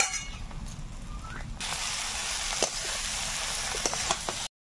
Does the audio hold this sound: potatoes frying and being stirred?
yes